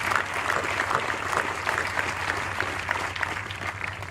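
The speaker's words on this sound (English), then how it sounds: "Let's give her a round of applause." Sustained audience applause at a regiment's basic camp graduation ceremony, steady dense clapping from a large crowd filling the hall at even loudness throughout.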